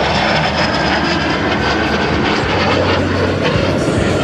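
An MS760 jet aircraft at the 2010 Boston Portsmouth airshow roars loudly and continuously, a close, broad jet engine rush that fills the whole stretch without pause.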